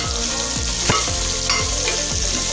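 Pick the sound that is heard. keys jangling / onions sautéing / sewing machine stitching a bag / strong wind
onions sautéing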